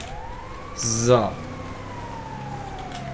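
Ambulance siren in GTA 5, a steady wailing tone running through the whole stretch at moderate distance, with a brief burst of other sound and a short spoken word early on.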